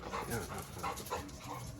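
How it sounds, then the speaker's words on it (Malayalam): A dog gives several short barks and whimpering yelps in quick succession, fairly close, with a little background noise. "പിന്നെ എന്തിനാ കുരയ്ക്കുന്നതെന്ന് ചോദിച്ചിട്ട് ഷാനി ചേട്ടനൊരു സമാധാനമില്ല"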